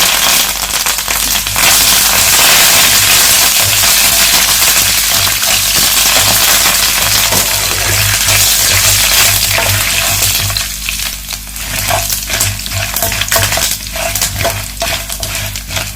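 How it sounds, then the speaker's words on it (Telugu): Dried red chillies and curry leaves sizzle loudly in hot oil for a pulihora tempering, a steady close crackle with sharp pops that eases slightly toward the end. "వేగిన తర్వాత ఎండుమిరపకాయలు కూడా వేసుకుందామండి తుంచుకొని."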